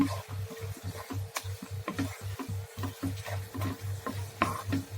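Bread halwa being stirred in a pan, a steady rhythmic scraping and sizzling close up, repeating every fraction of a second with no talk.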